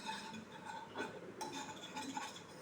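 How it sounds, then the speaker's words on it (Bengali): Oil spreads around a wok on the stove with faint metallic clinks and light scraping of a utensil against the pan, a quiet, steady clatter with a few sharper taps. "এই যে সাদা তেল দিচ্ছি, কড়াটা চারিধারে মিশিয়ে দিচ্ছি"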